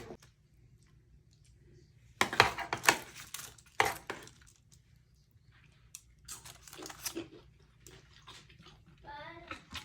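A knife cuts through crunchy baked nachos topped with sour cream, giving short bursts of close, sharp crackling and crunching with quiet pauses between them and faint talk near the end.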